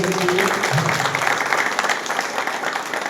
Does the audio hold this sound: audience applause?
yes